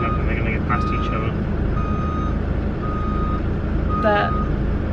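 A bus edges along a narrow cliffside country road, its reversing alarm beeping in short repeated tones over a steady low engine rumble and road noise.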